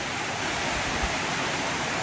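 Steady, dense hiss of heavy rain pouring continuously, loud and close, with no voices.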